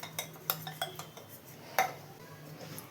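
A whisk breaks up lumps in wheat flour dosa batter, tapping and clinking against the bowl in quick, irregular strokes, close and fairly quiet, with no voices.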